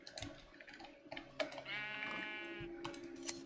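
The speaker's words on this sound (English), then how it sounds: "Sheep." Sheep bleating in the Minecraft video game, a drawn-out wavering bleat standing out clearly over faint clicking and background game sounds.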